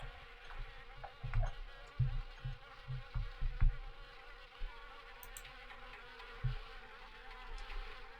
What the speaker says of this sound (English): Just wasp everywhere.